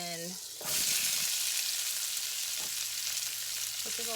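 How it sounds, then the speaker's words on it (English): Butter and a large amount of onion hit a pan with bacon drippings, bursting into a loud, steady sizzle after a brief quiet moment and hissing continuously with a few soft utensil scrapes. "So we're gonna add in a smidge of butter and all of our onion,"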